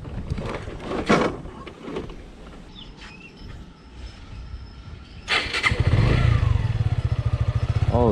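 A 2019 Suzuki Gixxer SF FI ABS motorcycle is started up for a test ride after some clatter and handling sounds, then idles with a loud, steady, close engine pulse.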